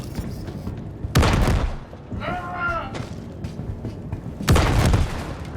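Two loud grenade explosions in Star Citizen, booming bursts a few seconds apart over a rumbling background, with a mechanical whine between them.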